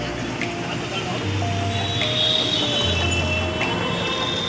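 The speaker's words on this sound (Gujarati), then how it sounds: "જઈ લ્યો મુંબઈનું મેટ્રો સ્ટેશન" A Mumbai metro train moves through a station, with a steady rolling rumble, high squealing wheels and short hums from the train's motors, and voices talk faintly in the background.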